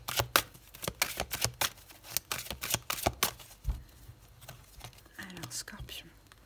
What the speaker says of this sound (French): On va poser les 14 cartes